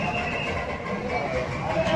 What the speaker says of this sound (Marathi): निघाली ट्रेन.